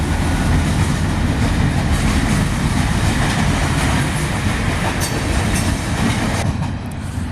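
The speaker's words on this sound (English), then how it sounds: "it was a train going past" A train rolls steadily past at close range, its wheels and carriages making a loud, continuous rumbling roar with faint clickety-clack for about seven seconds, easing slightly at the end. No voices.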